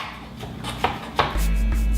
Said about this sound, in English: Do a rough chop.